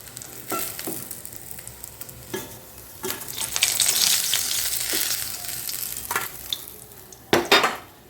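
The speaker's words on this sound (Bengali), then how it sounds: "দেখো মাছগুলো কিন্তু আমার এখানে ভালোভাবে ভাজা হয়ে গেছে।" Steady sizzling of rohu fish pieces frying in hot oil, with intermittent scraping and clinks of a utensil moving pieces in the pan.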